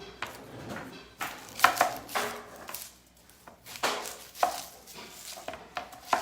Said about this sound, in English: let's go ahead and cut up just one onion